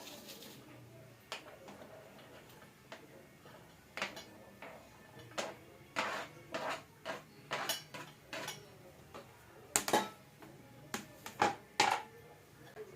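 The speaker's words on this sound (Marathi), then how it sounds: "तर आता हे सगळं मी या पिठामध्ये मिक्स करून घेते" Onion and other ingredients being stirred into homemade dosa batter made from ration rice, giving a run of soft, irregular clinks and scrapes of a spoon against a bowl, close by and fairly quiet, with no talk.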